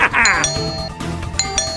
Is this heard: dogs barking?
no